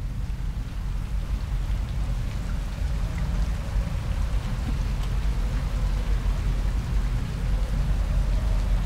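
Steady rain falls continuously in the video game Rain World, a dense hiss with a low rumble underneath, constant and fairly loud throughout.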